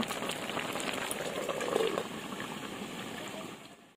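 Ridge gourd and taro simmer in a covered pot in their own released juices, no water added, giving a steady, dense bubbling hiss that holds evenly for about four seconds before fading out at the end.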